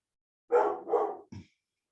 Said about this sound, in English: Just in time to hear the dog barking as well.